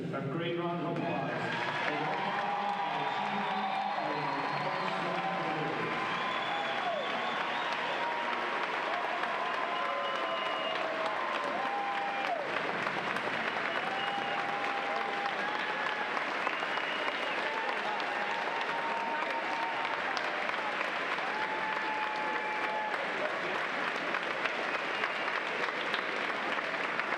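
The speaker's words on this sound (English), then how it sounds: "Please give this group of competitors a great round of applause." Sustained audience applause fills an indoor natatorium at a college swimming championship, a dense steady clatter of many hands lasting the whole stretch, with crowd noise and a few tonal whistles or squeaks mixed in.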